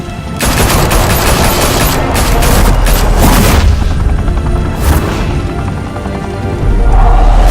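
Sustained heavy gunfire in a Batman video game: dense, loud bursts of automatic weapons fire and booming blasts rolling on without pause, with no talking.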